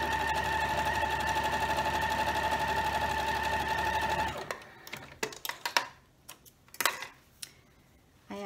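A sewing machine stitches a scant quarter-inch seam on a strip of quilt fabric, a steady close whir for about four seconds that stops abruptly, followed by scattered clicks and handling sounds.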